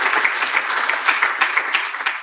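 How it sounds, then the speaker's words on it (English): Audience applause at a keynote debate at the HES2022 conference, a lively patter of many hands with distinct individual claps standing out, continuous for a couple of seconds. "So, Renate Wesselink, applause for her."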